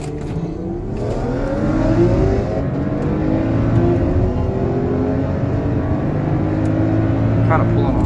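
A V8 car of about 420 horsepower accelerates hard off the line in a drag race, a loud, sustained engine roar climbing through the gears with a brief gear-change dip.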